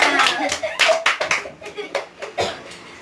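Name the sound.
class applauding, clapping hands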